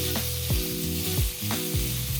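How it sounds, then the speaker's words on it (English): Tomatoes and shallots sizzle loudly in an oiled pan for a Chinese tomato and egg stir fry, a constant close frying hiss with a few stirring scrapes and no talk. "you want to start with the tomatoes in the pan"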